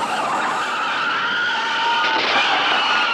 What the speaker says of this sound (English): The car's skidding broke a pacific moment